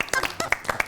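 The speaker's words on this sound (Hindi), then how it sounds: "आप लोग भी तालियां बजा दो।" A studio audience at a televised wedding-special morning show claps briefly, a quick handful of sharp, uneven claps lasting under a second.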